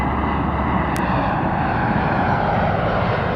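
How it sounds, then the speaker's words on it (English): A Challenger 300 business jet at Toronto Pearson airport gives off a steady, broad engine roar that stays constant and fairly loud throughout, with no speech. "Either way, it's a Challenger 300."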